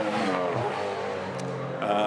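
Mazda RX-2 race car with a 13B turbo rotary engine, buzzing and revving hard during the Bathurst 12 Hour Combined Sedans race, with a commentator's voice over the engine.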